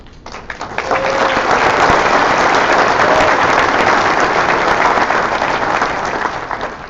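Audience at a high school sports awards ceremony bursts into loud applause and cheering, swelling after a second and holding steady before easing slightly at the end.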